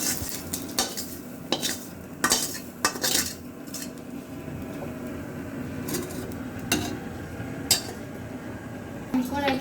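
Bitter gourd fry being stirred in a pan and lifted out with a metal utensil, with irregular sharp scrapes and clinks against the pan over a soft background sizzle.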